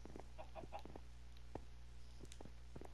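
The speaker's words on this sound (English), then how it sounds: "No, the chickens!" Chickens cluck in Minecraft, short blocky clucks repeating at an uneven pace over a steady low game hum, near and moderately loud with no talk.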